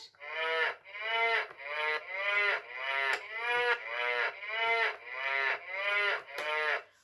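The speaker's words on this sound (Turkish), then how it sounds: "Yine burada da inek sesleriyle piyano seslerini birleştirmişler." A Fisher-Price toy piano plays a run of about ten cow moos, each at a different pitch, up and down like a melody, with quick clicks between notes.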